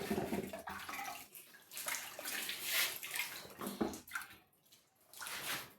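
Water runs and splashes steadily as sweet potatoes are washed for chips, a close, fluctuating gush with brief pauses and no voices.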